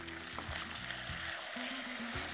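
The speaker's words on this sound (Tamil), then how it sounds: "நல்லா வதக்கிறோம்" Garlic and tomatoes sauté in a pan with a continuous sizzle, punctuated by several soft rhythmic stirring scrapes and knocks.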